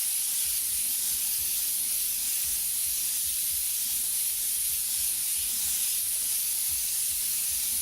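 Airbrush spraying paint with overspray, a steady continuous airy hiss that runs unbroken for about eight seconds, close and fairly loud, with no voices.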